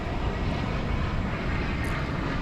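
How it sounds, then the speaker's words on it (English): An American Airlines Boeing 777-300ER airliner at DFW Airport gives a steady, broadband engine roar that stays even and fairly close throughout, with no voices over it. "Got American Flight 78, which is a 777-300ER."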